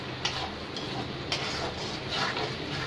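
Chicken masala with a little turmeric powder is stirred in a pan, with quiet spoon scrapes and light ticks against the metal over a low, steady cooking hiss.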